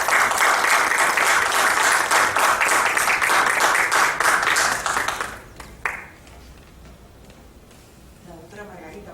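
Audience applause at an academic event on the Peruvian Civil Code: loud, dense clapping for about five seconds that breaks off abruptly, followed by a quieter room with a brief knock and faint voices.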